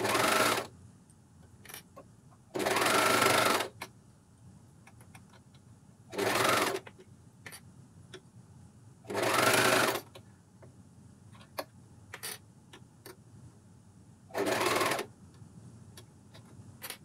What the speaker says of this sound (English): So needles first, then foot down, and then I cover stitch